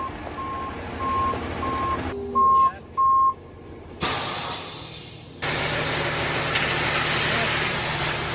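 A concrete truck's reversing beeper sounds in a steady series of beeps, then a loud hiss of air bursts out over rumbling engine noise.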